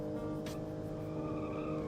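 A front-wheel-drive car in the BeamNG driving game slides into oversteer, its engine droning steadily while the tires give a thin squeal throughout a short, continuous stretch.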